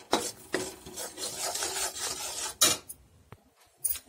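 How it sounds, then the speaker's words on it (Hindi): Whole spices lightly roasting in a pan for a paneer and peas curry, stirred with a spoon: repeated rasping, scraping strokes against the pan over a soft crackle, with a few sharp clatters near the end. "तो देखिए मसालों को हल्का भून लेंगे"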